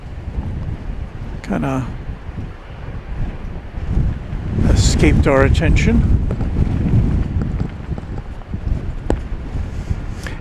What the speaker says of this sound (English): it's very windy here at DFW tonight. That accounts for the extra wind noise.